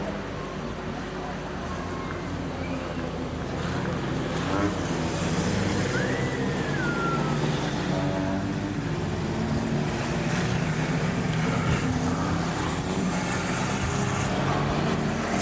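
Junior sedan race cars roar off at a Rockhampton speedway, a broad engine drone building as the field gets away, heard at a distance over crowd and track ambience, with a commentator talking throughout.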